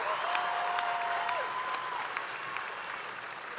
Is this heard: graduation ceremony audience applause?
yes